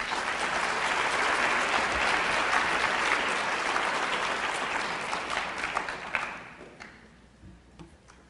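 An audience applauds to welcome Dr. Bullard to the stage at an environmental justice talk, the steady clapping filling a hall for about six seconds before thinning to a few scattered claps.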